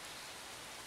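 Steady rain falling in the video game Survive the Nights, a dense, even hiss of drops on surfaces, faint and continuous with no voices.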